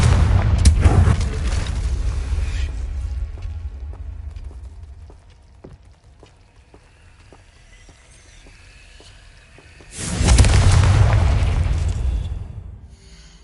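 Two heavy booming blasts from a fire explosion spell in a wizarding fantasy game, one at the start and one near the end, each with a rumbling tail and a sparse, quiet lull between them.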